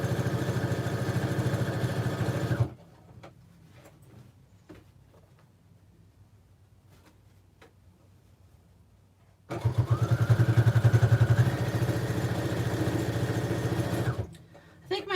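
Sewing machine running on a tote bag, loud steady motor hum in two bursts separated by a quiet pause, with the machine resting on a rubber mat.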